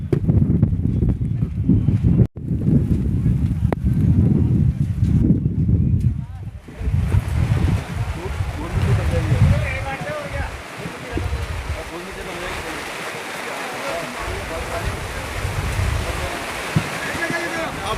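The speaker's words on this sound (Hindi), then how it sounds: "और इतने तेज हवा चल रही है जिसको आप देख रहे हैं" Strong wind gusts outdoors at the Ghazipur border protest site, with heavy rain, a loud buffeting roar against the microphone that settles into a broad, steady hiss of rain.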